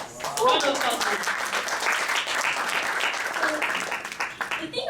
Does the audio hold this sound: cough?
no